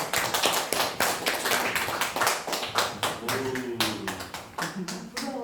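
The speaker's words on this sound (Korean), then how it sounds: "박수 한번 쳐주시죠" Individual claps from a small audience at a writing lecture, sharp separate hits in an uneven rhythm, with a voice talking over the later part.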